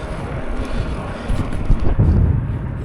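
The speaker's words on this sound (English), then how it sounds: "The wind is still there" Strong wind buffets the microphone while cycling downhill on a Montana route, a loud, continuous rumbling roar that surges and dips with gusts and has no voices over it.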